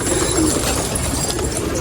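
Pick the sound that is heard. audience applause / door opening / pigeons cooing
pigeons cooing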